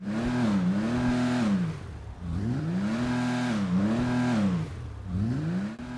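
A Nebula Turbo car engine in GTA 5 Online revs in repeated rising and falling sweeps, three loud cycles of acceleration with brief drops between them, heard alone and up close.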